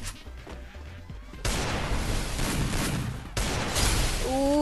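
Loud, dense gunfire crackles through a video game headshot challenge, with sustained bursts of shots and a sharp jump in intensity partway through.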